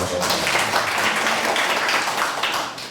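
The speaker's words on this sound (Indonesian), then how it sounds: "Tepuk tangan." Audience clapping during a Dharma talk at a Buddhist vihara: a dense, steady wash of many hands clapping at once, holding for the whole stretch with little variation before tapering slightly at the end.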